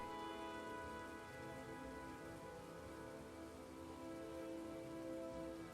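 Rain effect in the video game Cauldron Chronicles, a steady, soft hiss of rainfall on surfaces with a faint tonal hum beneath, continuous and even throughout with no talking.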